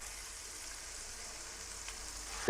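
Spicy prawns sizzle in ghee on a tawa with a faint, steady hiss, ending in a sudden loud knock.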